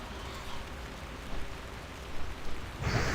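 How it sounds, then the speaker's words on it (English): A dense, hissing roar of fiery meteors from the Rain of Fire spell in Project Ebonhold pours down continuously, growing louder with heavier crackling impacts near the end. "Just spam freaking Rain of Fire"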